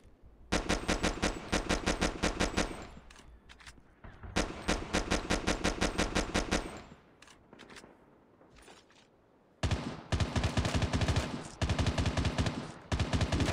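Machine gun fire in Call of Duty, three long rapid automatic bursts with a short gap and a quieter spell between them, loud and close, the last burst harsher, no talk over it.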